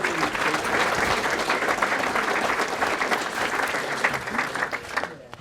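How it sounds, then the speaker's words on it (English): A crowd at an awards dinner applauds steadily for several seconds, dense clapping filling the room before fading out at the end. "round of applause to all those folks"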